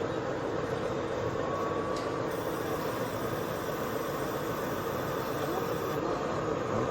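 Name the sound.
model DMU train passing on an electric train layout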